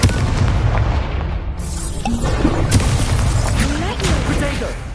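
Incendio fire spell cast in a Hogwarts wizarding video game, a loud continuous burst of whooshing, crackling magical blasts and booming impacts layered over busy combat effects throughout.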